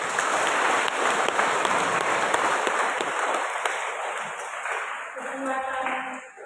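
A church congregation claps at a Eucharist celebration in a parish, loud sustained applause that slowly fades, with a voice and tonal sounds emerging near the end.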